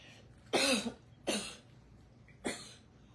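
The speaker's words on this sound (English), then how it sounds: "It's never fun to listen to someone cough." A person coughs three times, sharp and close, with short pauses between each cough.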